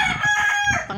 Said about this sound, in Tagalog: Native chicken. Yan, daming manok.